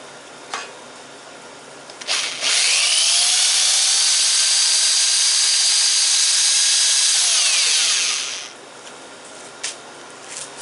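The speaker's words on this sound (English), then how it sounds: "when you're cutting metal, you got to try to keep your drill wet with oil." A power drill cutting metal whines steadily for several seconds at high pitch, close up, then spins down and stops; faint clicks before and after.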